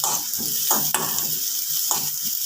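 Onions and garlic sauté in a pan for a jackfruit seed curry, a continuous sizzle broken by several scraping stirs of a spoon, close and alone with no talk.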